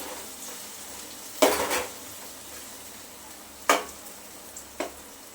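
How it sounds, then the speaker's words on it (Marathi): Onions and ginger-garlic paste sauté in a pan under a soft, steady background hiss, broken by three spatula scrapes and clinks against the metal, the first two louder and longer, the last brief. "लसूण आणि आल्याचा कच्चा वास जाईपर्यंत कांद्यासोबत परतून घ्यायचं आहे"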